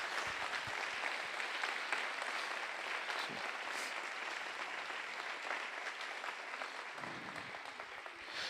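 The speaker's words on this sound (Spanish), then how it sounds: "Dale un aplauso fuerte a Dios." A church congregation claps loudly and steadily for the whole stretch in praise to God, a dense, continuous wash of applause with no talking over it.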